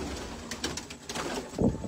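Pigeons coo softly in a fancier's loft of Batera pigeons, a few low throaty calls with slight rustling nearby, moderately faint and with no talking.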